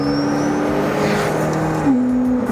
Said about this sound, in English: if you want to have a car that sounds epic no matter how fast you're driving